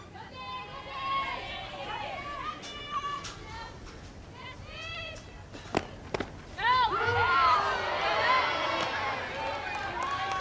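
The crowd at an NCAA college softball game between NC State and Florida State reacts loudly to a pitch called a strike, with many voices shouting and groaning together, while an announcer talks over it.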